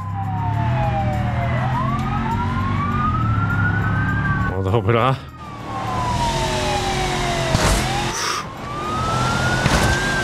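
Police sirens wail and sweep up and down during a chase in the BeamNG driving game, loud and close over engine noise, with brief crash-like bursts and someone speaking a word partway through.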